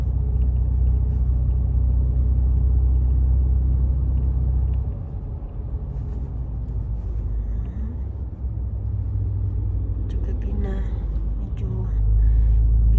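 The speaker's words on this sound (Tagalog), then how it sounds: "Yan, nasa traffic na siya. Busy-busy yung daan." Busy road traffic rumbles around a vehicle on a cold day, a steady low drone that swells and fades as cars pass close by, with a brief sharper clatter near the end.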